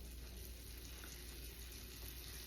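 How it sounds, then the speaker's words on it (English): Butter melts in a hot skillet before scallops are seared, giving a faint, steady crackling sizzle close by with no voices. "put a tablespoon or so of butter into the skillet. We're going to let that melt around"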